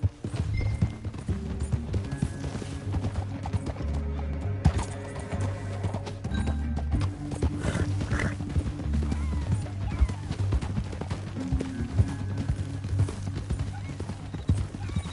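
Horses gallop in the video game Red Dead with rapid, steady clip-clopping hooves, loud and close, layered over dramatic background music and effects.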